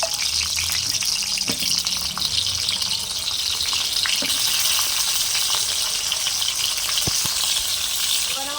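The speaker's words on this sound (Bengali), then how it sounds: "পটলের সাথে আলুটাও ভেজে নেব।" Continuous loud sizzle of vegetables frying in hot oil, with a few sharp pops and utensil clicks scattered throughout.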